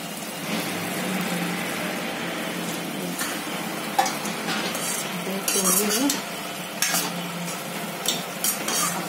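Ivy gourd (tondli) masala cooks in a pan with a steady low sizzle, while a spoon scrapes and stirs in intermittent clinks and bursts, close and moderately loud throughout.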